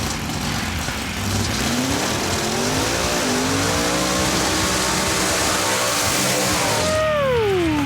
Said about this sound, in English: That's the best burnout of the night so far.